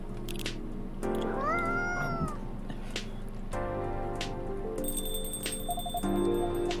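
A cat meows in the video game Coffee Talk 2, several clear rising-falling meows in sequence over quiet background game music and chimes, close and distinct.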